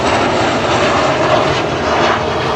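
A Boeing 737-300 jet airliner makes a low pass at an airshow, its engines producing a loud, steady, broadband roar that holds constant throughout with no voices.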